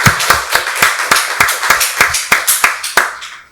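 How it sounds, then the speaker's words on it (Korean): A church congregation at a Sunday worship service claps in a steady, even rhythm, about a dozen crisp claps per few seconds, close and loud with no talking. "박수로 하나님께 영광 돌리겠습니다."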